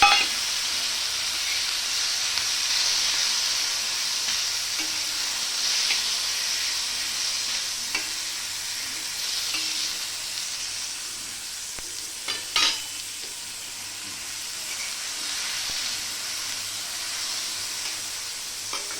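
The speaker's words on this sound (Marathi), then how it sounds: "मी आता त्याच्यामध्ये हे दोन टमाटर कट केलेले आहेत ते पण टाकते" Chopped tomatoes frying in a pan with roasted green chillies for a Maharashtrian thecha give a steady, close sizzle with a few soft stirring clicks and scrapes, and no talking.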